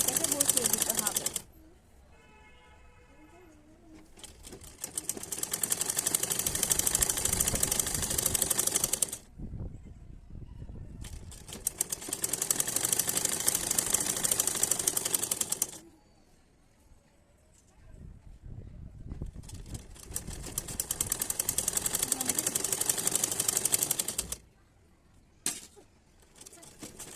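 A sewing machine runs a stitch along fabric for a scrunchie in several long bursts of fast, steady mechanical rattling, separated by pauses in which a person talks quietly.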